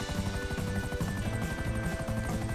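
A helicopter flies in GTA V, its rotor beating in a fast, steady chop over a continuous engine drone, moderately loud and without talk.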